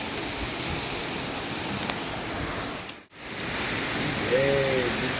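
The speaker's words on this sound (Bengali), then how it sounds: "এই দেখো, একদম সুন্দর ঝমঝমিয়ে বৃষ্টি হচ্ছে।" Steady, dense rainfall pours down in a continuous hiss, close and loud, with a brief dip in the middle before the downpour resumes.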